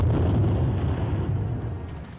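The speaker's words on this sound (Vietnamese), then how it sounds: "Một tiếng nổ cực lớn khiến cả con đường như rung chuyển." A single deep, rumbling explosion that roars loudly and then slowly fades away over a couple of seconds.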